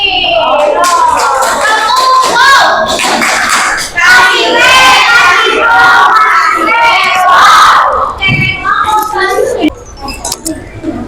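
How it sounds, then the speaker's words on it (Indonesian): Classroom audience of students bursting into loud, continuous clapping mixed with cheering and shouting voices during a teaching demonstration, sustained and close, fading slightly near the end. "Kasih aplaus lagi."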